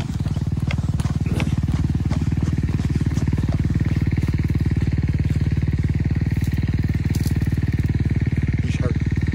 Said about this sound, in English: he just stepped on the throttle